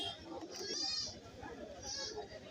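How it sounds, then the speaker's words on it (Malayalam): Goats bleat at a busy Kerala livestock market, a couple of wavering calls rising over steady crowd chatter and background voices. "നല്ല സൈസിലുള്ള ആടുകളെയൊക്കെ ഇതാ ഇവിടെ വാങ്ങി കെട്ടിയിരിക്കുകയാണ്"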